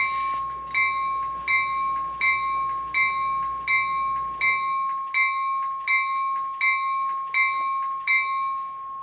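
Electronic bell of a Rapido HO-scale F40PHM-2 model locomotive with LokSound DCC sound, ringing in an even, steady rhythm of about thirteen clear metallic strikes, close and alone, over a faint low hum that drops away partway through.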